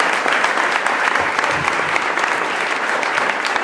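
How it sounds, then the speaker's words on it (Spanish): An audience at a book presentation applauds the author, dense sustained clapping from many hands filling the room, loud and close throughout. "Un aplauso muy grande para el autor."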